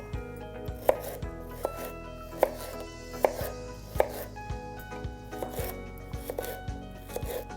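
A knife chopping a cucumber into bite-sized pieces on a cutting board, crisp regular knocks about once a second, then quicker, lighter cuts, close and without speech.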